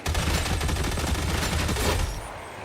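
Rapid gunfire in the Warhammer 40,000 game Skitarii, a dense burst of repeated shots with a strong low thump, running steadily and then cutting off near the end.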